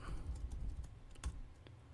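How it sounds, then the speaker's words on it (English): Keys tapped on a computer keyboard while entering a VLOOKUP formula in a spreadsheet, soft, close clicks in a quick irregular run over a low background hum. "I'm just typing in."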